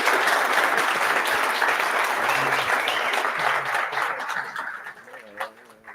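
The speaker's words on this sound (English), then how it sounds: "let's give him a big round of applause, guys." Audience applause following a presentation at a DroidCon 2025 developer conference, a steady dense clapping that holds for most of the clip and then thins out as voices begin to surface near the end.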